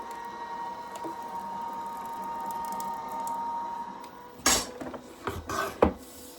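A die-cutting machine runs with a papercraft cutting mat fed through it, giving a steady mechanical whir for several seconds, then a few sharp rattling clacks and knocks close by as the mat comes through.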